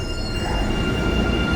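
An MBTA Orange Line subway train on the way from Malden to Somerville, heard up close as a loud continuous rumble with a steady high-pitched wheel whine, with no voices.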